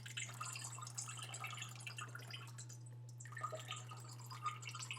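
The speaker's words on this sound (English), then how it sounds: "Pause for a moment over the vat to allow the water to drain out." Water draining and dripping from a handmade-paper mould held just above a vat of pulp, a faint steady trickle with scattered drips over a constant low electrical hum.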